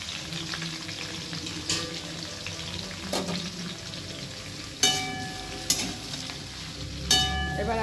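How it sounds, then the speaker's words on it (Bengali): Potatoes and cauliflower frying in a pan with dried red chillies and spices, a steady sizzle with occasional sharp clinks of a utensil stirring against the pan, no voices. "আলু আর ফুলকপিগুলোকে খুব ভালো করে ভেজে নেব"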